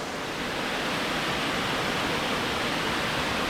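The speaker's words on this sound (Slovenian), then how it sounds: "to je pa zdaj ta glavni slap, ko pada skozi naravni most, gledajte to" Main waterfall plunging through a natural rock bridge near Gjipe beach in Albania, a loud, close, unbroken rushing roar of falling water with no voices.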